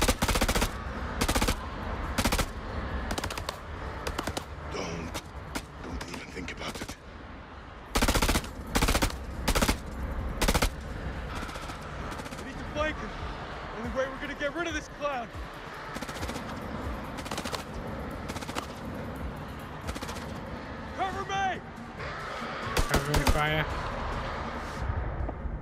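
Sustained automatic gunfire from the House of Ashes video game, rapid loud bursts repeating through the whole stretch, with a voice speaking between volleys.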